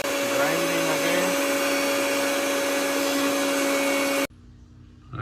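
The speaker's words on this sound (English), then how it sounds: "Grinding again." An electric grinder whirs loudly and steadily as it grinds spice paste with lemon juice for a squid marinade, a close motor drone with a constant hum that stops abruptly near the end.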